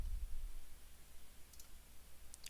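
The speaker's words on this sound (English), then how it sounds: "And from here I'll be clicking on New Virtual Machine." A computer mouse gives a few quick, faint clicks while setting up a Hyper-V virtual machine, short sharp ticks over a quiet room hum.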